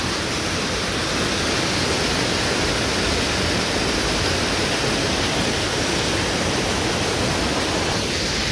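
Rushing river water flows loudly near a bridge, a steady broadband roar that stays constant and close throughout with no voices.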